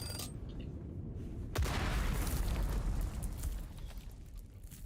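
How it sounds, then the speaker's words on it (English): A grenade detonates in the video game Dune Awakening, a sudden loud boom followed by a rumbling, crackling wash of debris that lingers for a few seconds before slowly subsiding. "Oh, grenade."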